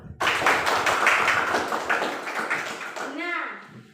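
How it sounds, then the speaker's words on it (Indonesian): A classroom group claps together for about three seconds, a dense burst of close applause that fades as a voice speaks. "Ya, tepuk tangan untuk kita semua."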